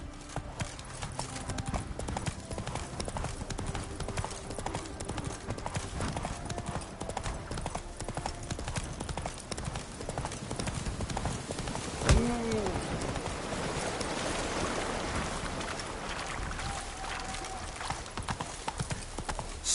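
Roach the horse in The Witcher 3 clip-clops along in a steady rhythmic trot, hoofbeats clear and fairly close, with faint bird cooing and ambient game sounds behind.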